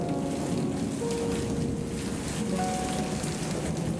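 Steady rain falls continuously and evenly on surfaces in Indonesia, a dense close hiss with no voices.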